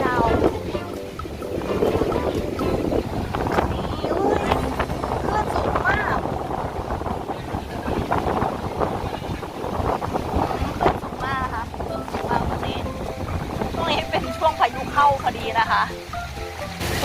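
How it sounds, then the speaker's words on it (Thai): Blustery wind buffets the microphone at a seaside beach beside a water park in Pattaya, with surf washing in underneath while someone talks throughout. "มีเป็นทะเลมีชายหาดนะคะ"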